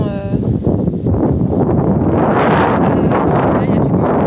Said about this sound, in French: Là, il y a du vent.